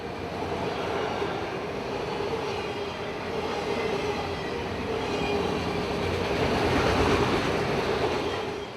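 A long freight train led by four diesel locomotives, a C44-9W, a Dash 8, an AC4400 and an ES44AH, rumbles past steadily, a continuous broadband roar of wheels and engines with a low diesel drone, swelling slightly toward the end.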